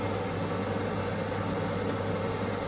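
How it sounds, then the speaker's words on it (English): A kitchen extractor fan draws steam off a pan of redcurrant jelly just taken from the heat, giving a steady, even broadband whoosh with a low hum. It holds constant and fairly close, with no talk over it. "That noise is the fan, which is taking the steam away."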